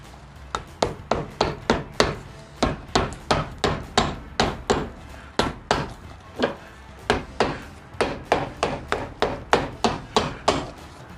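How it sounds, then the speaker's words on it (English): Rapid, regular hammer blows strike shoe soles over and over in quick bursts in a shoe repair shop, sharp and close, with no talking. "I'm going to hammer these down"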